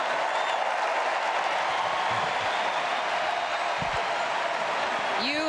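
Big, sustained applause fills a convention arena at the United Center after Alexandria Ocasio-Cortez's speech, a dense unbroken wash of clapping from a large crowd with a hint of cheering.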